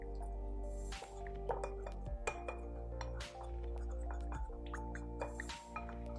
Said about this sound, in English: I'm gonna stir that in real quick. I'm gonna use an even smaller spoon thing